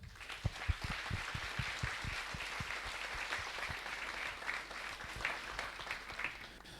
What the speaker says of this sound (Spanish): le damos un aplauso a José